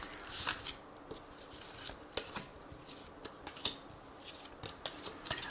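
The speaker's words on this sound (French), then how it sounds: "on va couper et on va prendre les 3 cartes." A tarot deck is cut, giving soft, faint card snaps and shuffling rustles in a quick, irregular series of light clicks, close by in a quiet room.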